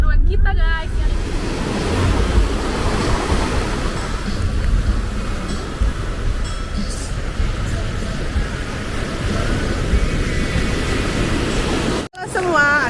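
Surf and wind at Pantai Gosong, also called Pantai Cemara Indah, in Aceh Singkil, make a loud, steady wash of broadband noise. It continues for about twelve seconds and drops out abruptly near the end.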